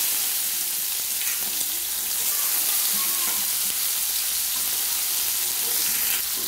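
Chopped onion frying in oil with whole garam masala, cumin and bay leaves, a dense, loud, constant sizzle with faint stirring underneath and no voices.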